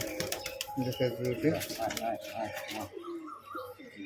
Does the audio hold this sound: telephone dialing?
no